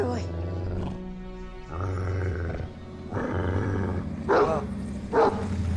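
A large dog barks and growls in a fantasy TV drama scene, deep loud outbursts mixed with talking voices and a swelling music bed.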